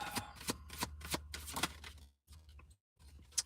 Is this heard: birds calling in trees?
no